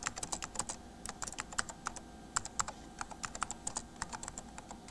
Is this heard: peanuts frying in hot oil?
no